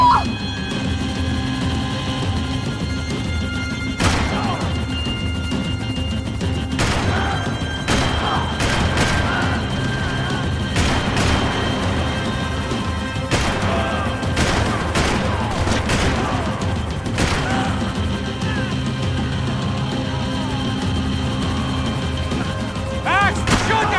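Heavy, continuous gunfire in the action shooter Max Payne 3: a sustained barrage with repeated sharp shot cracks spaced throughout, loud and close, with occasional shouting in the mix.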